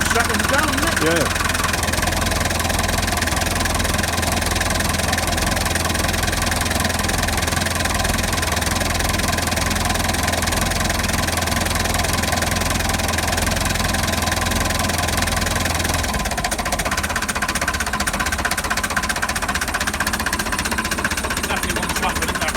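Tractor engines idle with a steady, knocking, chugging rumble, then the sound thins and drops partway through as one engine cuts out. People talk over the engine noise.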